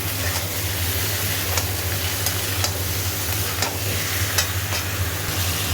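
Meat coated in ginger-garlic paste sautéing for a chicken dish, a steady close sizzle and frying hiss throughout, with a low continuous hum beneath and faint periodic scrapes of stirring.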